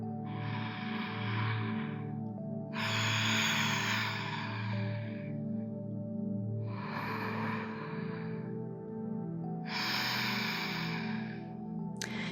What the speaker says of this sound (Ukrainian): Можете робити шиплячий дихання у джай.